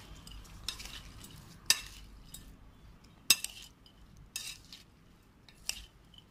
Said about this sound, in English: Now I'll be mixing it.